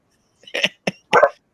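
Dogs bark in three short, sharp bursts, close and loud against an otherwise quiet background.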